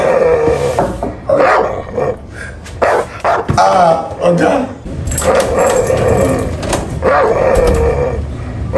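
A dog barks and yelps loudly in a lively home kitchen scene where red oil basmati rice is being cooked, the barks overlapping with continuous nearby talk and shouting.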